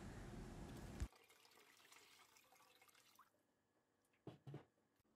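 Water is poured into a pot of noodles: a short, loud splashing pour at the start, then quiet with a few faint drips afterward.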